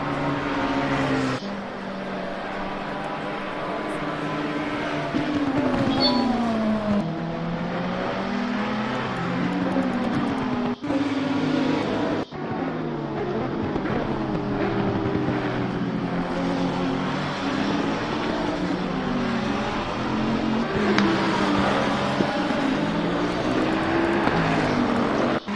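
Ferrari and McLaren race cars in a racing video game at Misano, engines whining loud and continuous as they battle closely, pitch rising and falling through gear changes with brief dips.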